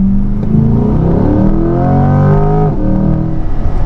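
A 2023 Corvette C8 Stingray 2LT with the Z51 package revs hard with automatic rev matching, loud and close, the engine note climbing and blipping through quick gear changes with no talk.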